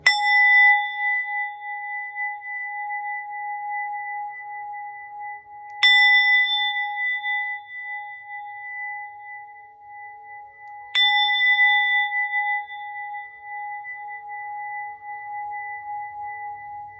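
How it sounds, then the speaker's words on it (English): A bell or singing bowl is struck three times at slow, even intervals, each strike leaving a clear, sustained ringing tone that hangs in quiet air until the next hit. "I'm like hitting a bell or I'm hitting a bowl"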